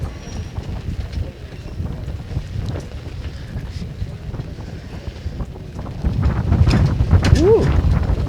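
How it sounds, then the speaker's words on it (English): Wind gusting at an outdoor track and field meet, a rough rumbling roar of wind on the microphone that swells louder toward the end, with faint crowd noise underneath. "Gust of wind there."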